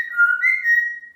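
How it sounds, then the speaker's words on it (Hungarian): A person whistles a short, clear, steady tone with a slight rise in the middle, close to the microphone, with no talking. "Tudsz fütyülni."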